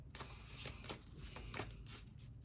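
Tarot cards shuffled and handled while drawing clarifier cards, a close, quiet run of soft riffling flutters and light flicks repeating in quick bursts, heard alone without talking.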